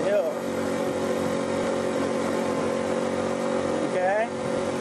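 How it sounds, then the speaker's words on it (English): A small motorbike engine strains steadily uphill on a main road on Koh Chang, Thailand, droning loud and continuous throughout, with a brief tonal sweep near the end as it winds down. "You're going to hear how this little bike has to wind down to get up the hill."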